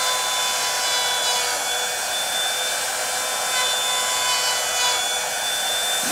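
An electric wood trimmer router cuts along the outer edge of a wooden piece, giving a steady high whine with a rough cutting rasp, close and continuous throughout.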